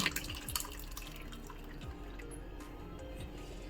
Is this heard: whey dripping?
yes